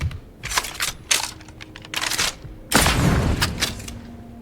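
Grenade fire in Apex Legends, with a grenade stuck onto a weapon: a run of sharp, loud bursts, then a big blast that rings out and fades.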